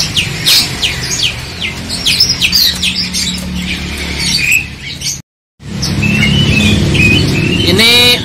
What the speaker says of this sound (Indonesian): Ada jalak suren gacoran pemirsa.